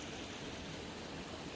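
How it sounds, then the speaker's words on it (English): A stream flowing just off a hiking trail beside a campsite near Buck Creek Pass, a steady broadband rush of water that holds even and continuous throughout, close by and alone with no voices. "right next to a stream"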